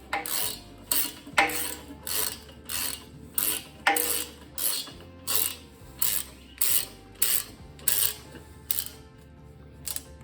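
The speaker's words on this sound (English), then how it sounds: "And my ratchet with my 12 point socket." A hand ratchet fitted with a 12-point socket turns a bolt while shortening bolts for headers on a 429 Cadillac engine; close, evenly spaced bursts of clicking pawl strokes repeat throughout without speech.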